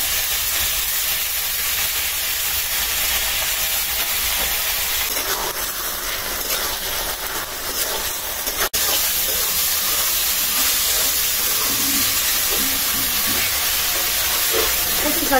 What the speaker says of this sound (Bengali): কচু শাকটা আমি ভাজতে রাখছিলাম